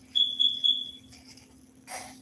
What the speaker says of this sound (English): don't be talking about my little alarm thing. I already tried to fucking change the batteries